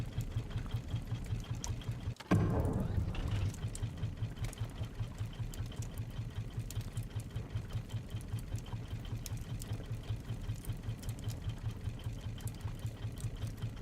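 A raft engine in the survival video game Raft runs with a steady, rapid mechanical chugging at constant loudness, starting up after a sharp click and continuing evenly without talk.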